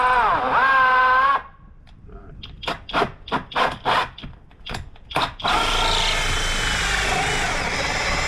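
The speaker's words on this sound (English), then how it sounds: "Much easier drilling in the middle of the shake than it's going to be in between the two laps" A power drill whines at high speed, then stutters in short bursts as it bites into cedar shake siding, before running steadily again.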